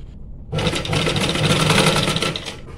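A sewing machine runs steadily and loudly at close range stitching a double-colour designer blouse, starting after a short quiet moment and whirring continuously with a fast rhythmic needle chatter until it stops near the end.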